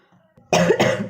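Two harsh, close coughs in quick succession after a brief quiet moment.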